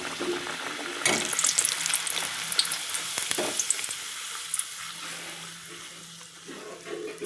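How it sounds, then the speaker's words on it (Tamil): Pressed puri dough drops into hot oil and deep-fries with a close, bubbling sizzle that surges as the dough goes in, then settles into steady frying with occasional spatters and crackles. "இதை வந்து எண்ணெயில் போட போகிறோம்."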